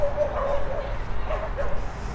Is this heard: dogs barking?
yes